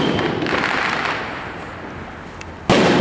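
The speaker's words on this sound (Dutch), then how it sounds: "Ja, dit is een eindboom." A fireworks finale shell bursts at a New Year's display, a crackling, sizzling spray that fades over a couple of seconds before a sharp, loud bang cuts in at the end, with no voices over it.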